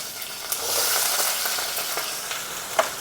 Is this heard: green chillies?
yes